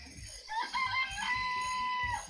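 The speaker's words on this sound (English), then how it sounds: "Remember there was some chickens in the chicken coop." Chickens in a coop within a video game, a rooster-like crowing call rising and holding a long sustained tone over a busy background of clucks and game ambience, moderately loud and without talk.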